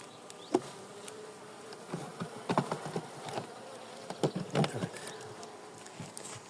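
Honeybees buzzing around an open hive, a steady insect drone with brief louder passes as individual bees fly close.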